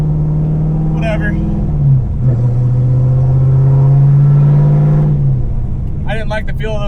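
Camaro on 28-inch bias ply tires spinning out, a loud steady engine drone that dips briefly and resumes, then fades as the spin ends, with someone talking over it near the end.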